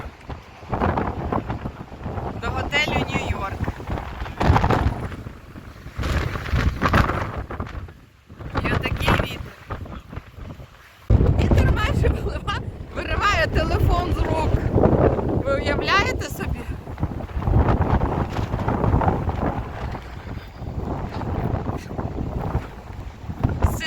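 A strong storm wind blows hard across a microphone outdoors in the Netherlands, roaring and buffeting in uneven gusts with brief lulls, while someone talks intermittently.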